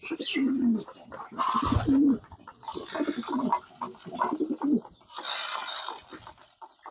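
Several pigeons coo in low, throaty, repeated calls close by, mixed with rustling and scratchy movement noises around a loft where birds are nesting on new eggs.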